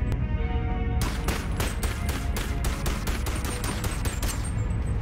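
Rapid gunfire in the VR game Bonelab, a fast regular string of loud close shots after a single early crack, running steadily to the end.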